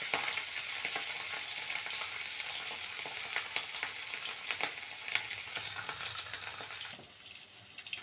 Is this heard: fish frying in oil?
yes